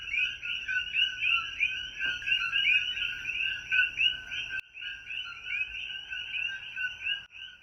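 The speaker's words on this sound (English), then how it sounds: "that sound you just heard are the sounds of frogs here in the Big" A chorus of frogs calls at night on Hawaii's Big Island in rapid, repeating high-pitched chirps, steady and loud, with a brief pause before the calling resumes.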